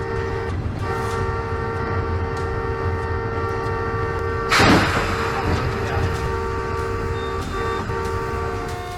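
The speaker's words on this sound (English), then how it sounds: "Another cow collision with a train" A passenger train strikes a cow on the line: a steady rail rumble with a sustained horn tone runs throughout, broken near the middle by a brief, loud crashing impact before the rolling noise carries on.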